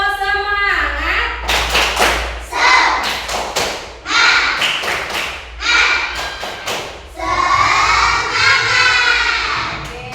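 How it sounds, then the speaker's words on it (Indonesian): A class of children performs a rhythmic spirit clap in a primary school maths lesson, with sharp patterned claps and thumps alternating with loud shouted chanting from the group, close and energetic throughout. "Oke, tepuk semangat."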